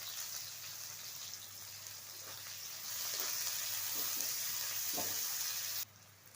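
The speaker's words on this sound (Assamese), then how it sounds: "এতিয়া এইখিনি তেলতে এয়া পিঁয়াজ দিম" Chopped onions drop into hot oil in a home kitchen pan for an Assamese egg curry, giving a steady broadband sizzle that grows louder partway through, with faint stirring clicks and no voices.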